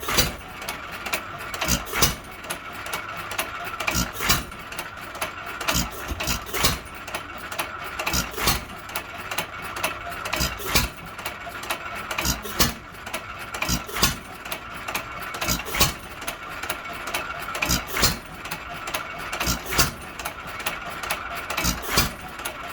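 A Hercules 1.5 hp hit and miss engine, brought back after many years, runs with a steady rhythm of sharp mechanical pops and clatter repeating throughout.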